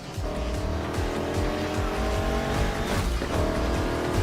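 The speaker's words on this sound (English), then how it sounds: "let's show what a Mustang can do" A Ford Mustang racing in Need for Speed Heat, engine roaring loudly with sustained tire squeal and skidding, up close and continuous.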